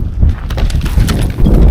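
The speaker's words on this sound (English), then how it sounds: "All 3 donkeys ran off." Three donkeys bolting on a walking trail from Nazareth toward the Sea of Galilee, their hooves clip-clopping in a quick, steady patter up close, with no voices over it.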